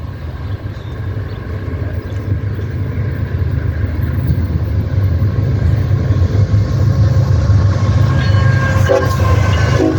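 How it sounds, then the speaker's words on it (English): A loaded CSX trash train rolls past close by in Ohio, a steady heavy rumble of railcars with faint rhythmic wheel clatter, alone and without speech. "A loaded trash train."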